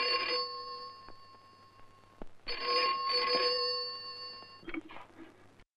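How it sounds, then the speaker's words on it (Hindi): An old-style telephone bell rings in two long trilling bursts with a pause between, close and clear, followed by a short clatter. "रानी की माँ, तुम्हारा टेलीफोन।"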